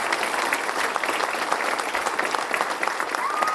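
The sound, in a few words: applause for the governor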